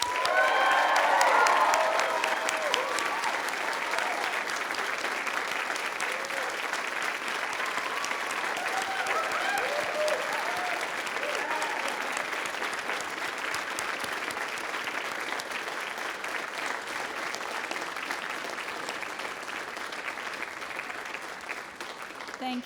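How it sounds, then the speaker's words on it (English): Graduates in a large convocation hall at a law school spring ceremony break into sustained applause with scattered cheers and whoops, a broad, even roar of clapping that holds steady for over twenty seconds. "Now it's your turn to honor your family and friends with great cheers and applause."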